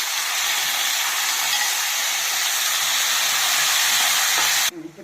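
Chicken liver frying in a pan with onion, coriander and curry leaves gives a steady, close, broadband sizzle that holds evenly for several seconds before stopping abruptly.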